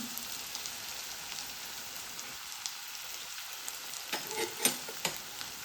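Onion softening in a pan for a Marathi-style dried-prawn (sukka jawla) and spinach dish, giving a steady low sizzle with a few sharper scraping stirs near the end, no voices.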